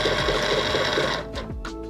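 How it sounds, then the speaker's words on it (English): Momento electronic cutting machine loading a cutting mat, a close whirring motor with a soft rhythmic pulse, followed by brief higher-pitched mechanical whines as the mat feeds in. "To load the mat, I simply hit load mat."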